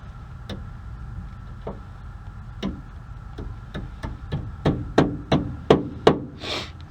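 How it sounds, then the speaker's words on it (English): A small hammer smacking down a bent part on a Ford F150 tie rod, about a dozen sharp metallic taps, sparse at first, then quickening into a tighter, louder run near the end. "I'll smack it down with a little hammer"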